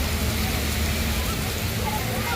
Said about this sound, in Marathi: लय जोरात पाऊस पडलेला आहे भावानो